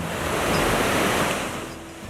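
Pacific Ocean surf breaking on the beach at Pacific City, Oregon, a steady loud wash of rushing water swelling and easing, with no voices.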